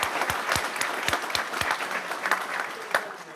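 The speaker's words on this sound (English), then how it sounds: "Let's give them a round of applause" A small group claps steadily for a few seconds, the applause fairly soft and close, with individual claps standing out.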